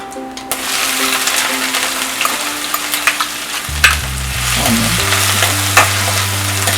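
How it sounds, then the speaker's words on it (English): Cumin seeds (jeera) sizzle and crackle loudly in about two tablespoons of hot oil in a pan, a steady close frying hiss with a brief low stirring scrape partway through and no talk. "I took a pan and put around 2 tablespoons of oils here. I'm going to add jeera first, or cumin seeds"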